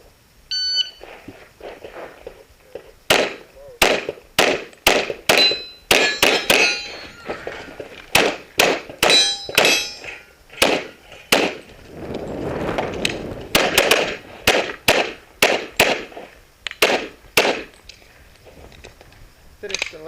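Gunfire and steel targets ringing on a USPSA stage at the 2014 Area 1 Championships: a rapid, loud string of sharp shots and metallic clangs in quick bursts, with brief pauses between strings.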